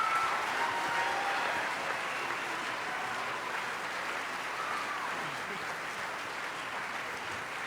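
An auditorium audience at a choir program applauds the choir director in a continuous, even wash of many hands clapping that fades slightly toward the end.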